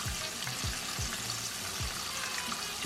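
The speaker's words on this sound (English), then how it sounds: "leave it fry on one side for like probably 7-8 minutes" Chicken pieces for a Popeyes-style sandwich frying in a pan of oil, a steady close sizzle and crackle with a few low bumps, no talk.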